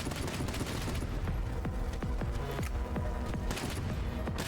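Continuous gunfire in the video game Kiborg, dense bursts and overlapping shots with booming impacts that stay loud and steady throughout, with no talking.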